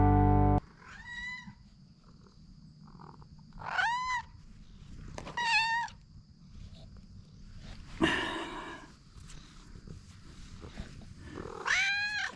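A pet cat named Mouse meows several times in drawn-out, rising calls spaced a few seconds apart, close by over a low background rumble.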